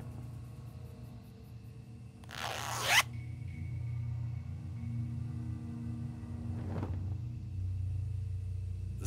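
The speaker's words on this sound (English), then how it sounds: "The zipper on this cushion's stuck." In the adventure game Tesla Effect, someone tugs briefly at a stuck cushion zipper, a short rasping zip heard over a low steady rumble, followed later by a fainter scrape.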